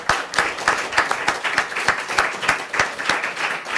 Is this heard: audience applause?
yes